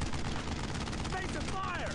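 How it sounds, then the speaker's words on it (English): Machine gun fire in the World War II shooter Brothers in Arms: Road to Hill 30, a dense, continuous rattle of loud bursts with shouted voices faintly underneath. "Stay there because there's an MG."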